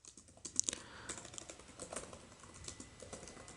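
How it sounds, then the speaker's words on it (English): Fingers type a prompt on a computer keyboard in a steady run of soft, close clicks and taps, continuing without pause and with no talking. "Here you can just simply go ahead, type the prompt"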